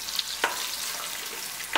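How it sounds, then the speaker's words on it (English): Garlic, broken dry red chilies and cumin seeds frying in hot oil give a steady broadband sizzle, with a few brief stirring clicks and spatters rising above it. "Let the garlic slightly turn brown"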